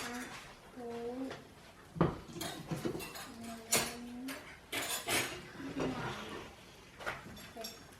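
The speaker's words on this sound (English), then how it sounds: "So you put 1 fork, 1 spoon, and 1 knife" Forks, spoons and knives set down one by one on a table, with scattered clinks and knocks between bursts of talking voices, including a child's, close by.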